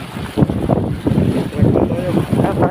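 Loud, blustery wind buffets the microphone in rumbling gusts, with a faint voice briefly audible underneath.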